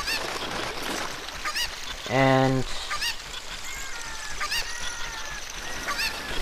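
A chicken in The Legend of Zelda: Ocarina of Time gives one loud, honking squawk lasting about half a second, over a busy game soundtrack with faint talk.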